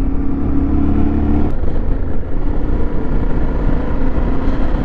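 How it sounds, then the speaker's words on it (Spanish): A 2023 Yamaha Ténéré 700 World Raid motorcycle rides steadily, its engine a loud, continuous drone close by, with a brief shift in tone early on before it settles into a rough, even hum. "Es que es un placer conducir en esta moto"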